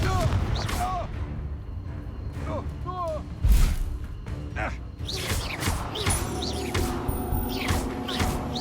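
The Confringo explosive blasting curse cast in Hogwarts Legacy: a sharp, booming burst midway, surrounded by scattered combat whooshes and impacts, with game character voices heard over the action.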